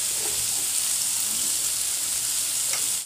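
Fried potatoes with spices, salt and a pinch of sugar sizzle steadily in a hot pan, a loud continuous frying hiss with faint stirring scrapes.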